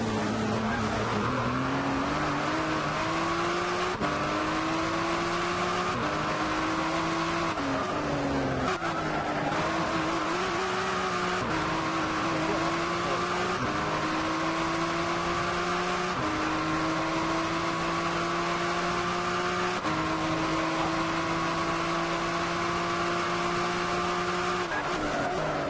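A Mercedes race car and a Ford GT in Gran Turismo 6 at the Nürburgring, engines droning steadily and close, with the pitch climbing through repeated gear changes and no talking.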